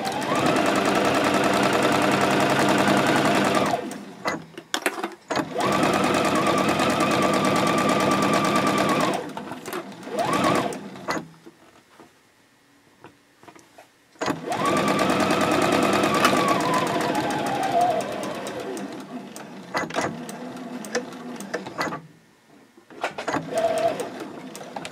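A sewing machine stitches a seam of a fabric composition notebook cover, running in long steady bursts of rapid mechanical whirring separated by brief pauses and quiet handling clicks.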